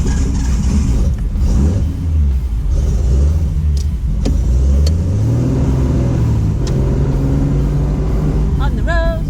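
A home-built Datsun 240Z drives along an Australian road, its engine droning and rising and falling through gear changes from inside the car, with road rumble underneath and a few sharp clicks and knocks.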